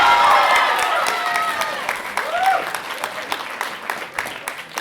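A crowd breaks into a loud round of applause at a Mayor of London Big Local community speech, dense clapping with a few raised voices that gradually tapers off.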